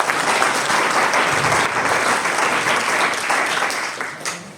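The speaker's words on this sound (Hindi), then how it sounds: "तालियां।" Sustained applause from a school audience of children at an environment day event in Sariska, loud and steady throughout, easing slightly near the end.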